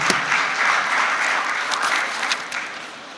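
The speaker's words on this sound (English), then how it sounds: "Please, a round of applause for her again" Sustained audience applause at the ceremonial launch of Nuru Nigeria's SUSTAIN project, a full, steady crowd clapping that tapers slightly toward the end.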